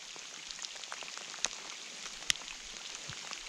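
Soft steady autumn rain patters in the background while grayling fishing in the Komi Republic, with occasional sharper drops landing close by.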